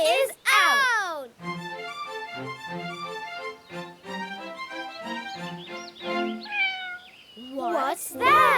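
A cartoon cat meows in a children's pretend play scene with toys, a couple of short rising meows near the start and end framing bright, sing-song child-like voices talking in between.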